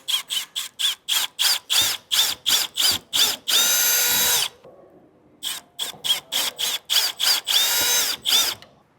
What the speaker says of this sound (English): We're just going to drill through both of those.